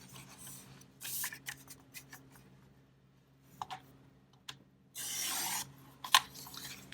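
Scissors snip through washi paper in a few short, crisp bursts scattered among quiet pauses, close up and fairly faint, with no one speaking.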